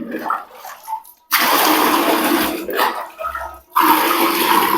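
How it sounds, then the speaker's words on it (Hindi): Mugs of water are poured into a bucket while cleaning a split air-conditioner filter: two loud, splashing gushes close by, separated by a quieter gap with light trickling. "बाल्टी नै आसला परे 2 मग रु 3 मग पानी ढालिबे, बेसी ढालिबेनी।"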